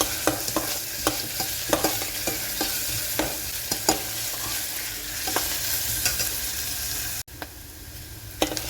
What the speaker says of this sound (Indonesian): Tumis sampai layu dan wangi